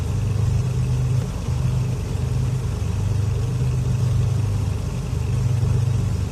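A Beechcraft Baron B58 in Flight Simulator X sits at idle near 900 to 1000 RPM, its engines giving a steady, loud, low droning rumble that holds unchanged throughout.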